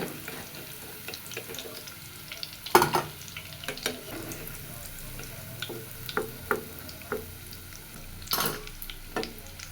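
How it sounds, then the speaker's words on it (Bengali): Fritters frying in a pan of oil, a low bubbling sizzle with sporadic louder spits and clattering bursts, nearby and without talk. "বড়াগুলো সুন্দর মতো ভাজা হয়ে গেছে, 2 পিঠ লাল লাল করে।"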